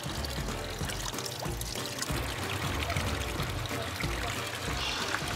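Gragnano mountain water poured steadily from a source, a continuous splashing trickle with a voice speaking over it.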